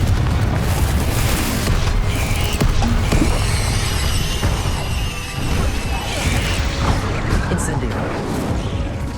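Booming explosion effects from the Confringo spell in the video game Hogwarts Legacy, loud and dense, with crashes and rumbling game sounds layered under speech.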